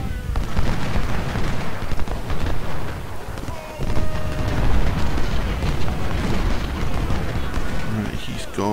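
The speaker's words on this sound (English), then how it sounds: "Everybody shoot Tyler." Continuous gunfire and battle noise from the Civil War video game Ultimate General: Civil War, with dense rattling volleys and booming shots layered into a loud, sustained roar.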